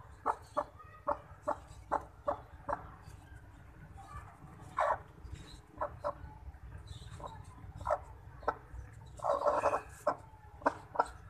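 A chick cheeps from inside a hatching egg, giving faint, repeated short high peeps in an irregular rhythm over low background noise, with a couple of louder chirping bursts.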